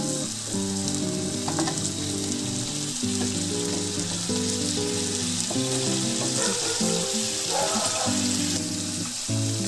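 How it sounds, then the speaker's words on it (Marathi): Chole masala sizzling in a pan as a little water is added, a loud, steady frying hiss with bubbling that runs through the whole stretch over a background of music. "आता आपण ह्याच्यामध्ये थोडंसं पाणी ऍड करूया, कारण मसाला आपला छान असा शिजलेला आहे।"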